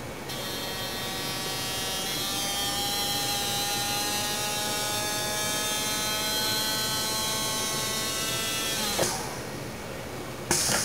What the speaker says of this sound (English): in the next step I'll measure the removal torque on a cap that I previously applied to 30 inch-pounds.